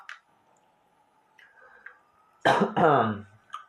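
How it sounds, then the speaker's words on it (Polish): A couple of harsh coughs burst out close and loud after a quiet stretch of faint background hum. "kaszel będzie mnie dobiła"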